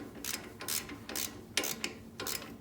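A wrench ratchets a nut onto a stud during intake manifold work on a 2010-2015 Toyota Prius, giving a quick series of sharp, close metallic clicks in bursts about every half second.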